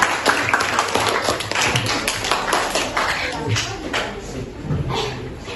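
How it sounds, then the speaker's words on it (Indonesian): Applause for a student at a class literacy ambassador contest, a small roomful of classmates clapping in a dense patter, close and steady, with some voices mixed in underneath. "Mari kita berikan tepuk tangan sekali"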